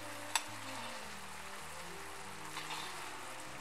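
Sugar syrup boils in a pan while being cooked for Mysore pak, giving a faint, steady bubbling hiss with one small tap near the start and no talking.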